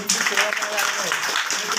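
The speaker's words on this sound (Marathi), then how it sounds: "सगळ्यांनी टाळ्या वाजवा" Audience applause at a community event marking Dr. Babasaheb Ambedkar's 134th birth anniversary, steady crowd clapping heard under a person speaking over it.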